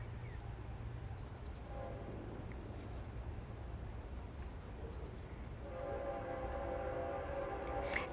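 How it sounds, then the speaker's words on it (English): A train passes with a steady, loud rolling rumble that builds toward the end, and sustained horn tones sound over it, with no talking. "And there is my daily train."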